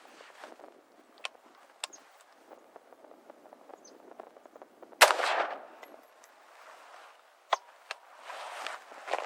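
An AR-15 rifle fired at 17 yards on a shooting range, a few sharp, cracking shots with one loud report standing out over faint background rustle and clicks, with no speech.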